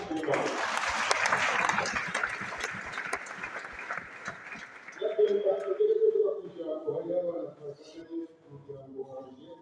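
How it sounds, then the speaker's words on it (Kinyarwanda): Applause from a church congregation, many hands clapping loudly for several seconds before fading, then voices speaking and singing take over. "Amashyi"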